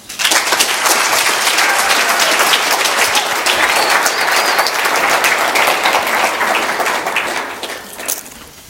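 An indoor audience welcomes a speaker at an entrepreneur leadership talk with sustained, loud applause. The clapping is dense and even for several seconds, then thins out toward the end.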